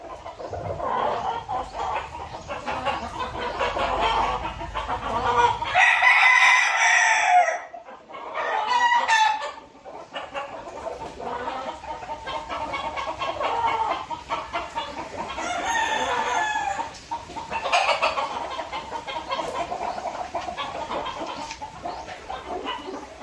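Chickens cluck and a rooster crows loudly nearby at a gamefarm on a rainy day, with more crowing and clucking scattered across the stretch, no talking.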